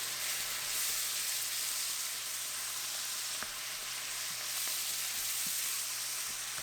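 Chopped green onion stir-fried into thinly sliced pork belly and kimchi in a hot pan gives off a steady, continuous sizzle with a few faint clicks of stirring. The sound stays even throughout, with no voices.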